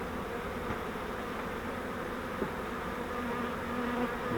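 A swarm of honeybees caught in a swarm trap gives off a dense, continuous buzz, steady and close, with a faint tap partway through. No one speaks.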